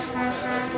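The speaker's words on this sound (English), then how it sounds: "He's going to go down the whole way honking that horn." A big lorry's horn sounding in one sustained, steady blast during a protest march, moderately loud with a slight distance to it.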